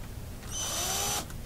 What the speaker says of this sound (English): I plan to use my drill here.